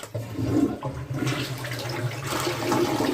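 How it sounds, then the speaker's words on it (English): A newly installed replacement bathroom toilet flushes with a loud rushing gurgle of water that swells, then continues draining and refilling steadily nearby. "Still flushed with it on."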